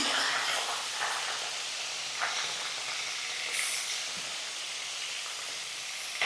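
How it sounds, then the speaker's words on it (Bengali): Lata fish fry in hot oil, giving a steady broad hiss and sizzle that stays fairly even throughout, close but soft, with a few small pops. "এবার আমি তেলের মধ্যে মাছ ছেড়ে দেবো।"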